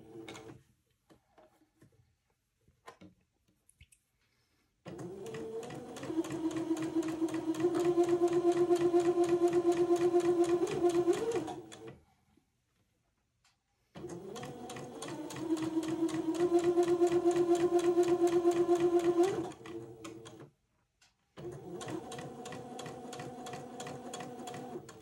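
A sewing machine runs a straight basting gathering stitch along the edge of a baby garment's sleeve ruffle, in two long steady bursts and a third starting at the end, separated by quiet pauses with faint handling clicks.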